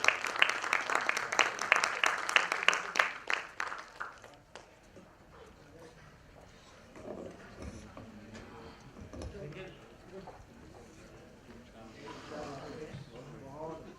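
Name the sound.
audience applause at a poetry event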